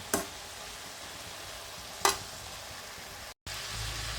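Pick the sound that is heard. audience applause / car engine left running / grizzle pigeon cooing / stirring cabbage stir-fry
stirring cabbage stir-fry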